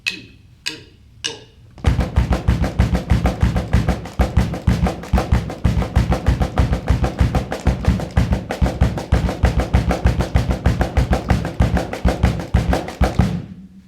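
Steady triplet pattern tapped out by hand as a practice check, a continuous rapid stream of even, close, fairly loud strokes after a few separate opening hits, with no talking over it.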